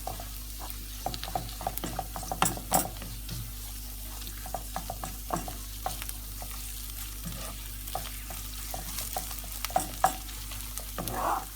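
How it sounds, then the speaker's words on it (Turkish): Onions and tomato paste sauté in a pan, a constant close frying sizzle broken by the clicks and scrapes of stirring, with no talk. "Şimdi üzerine bir yemek kaşığı salçamızı ilave edip salçamızın kokusu çıkana kadar kavuralım."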